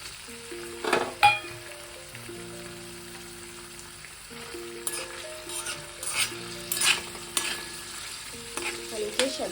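Paneer pieces frying in a pan for palak paneer, a steady sizzle with scraping stirs and clinks of a utensil recurring throughout, fairly close and moderately loud.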